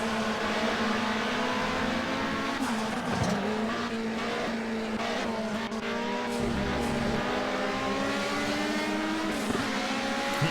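A wide race car in Project CARS holds a loud, steady engine note with rising and falling revs through gear changes, close and continuous with no talking.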